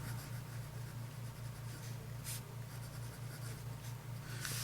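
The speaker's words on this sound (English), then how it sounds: "this is a very smooth writing experience" A Pilot Myu 701 fountain pen with a medium nib writes on paper, a faint steady scratching glide over a constant low hum, with brief louder strokes.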